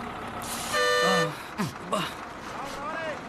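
A bus horn sounds a short, loud toot up close as the bus pulls away, followed by brief vehicle noise and chirping tones amid street ambience.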